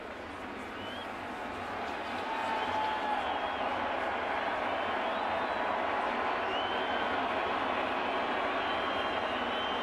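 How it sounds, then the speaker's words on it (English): A crowd of about 45,000 at a 2015 Mets baseball game gives pitcher Michael Pineda an ovation, a dense, sustained roar of cheering and clapping that swells after the first couple of seconds and stays loud. "you have to listen to the ovation that Michael Pineda will get from the crowd of"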